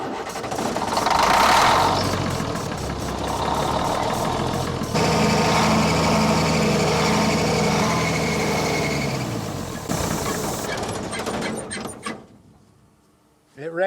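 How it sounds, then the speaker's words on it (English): An old military truck engine runs on ether after a pull start, a rough, loud idle with mechanical clatter close by that holds steady, then falters and dies near the end, with a voice briefly heard over it. "It ran till we ran out of ether."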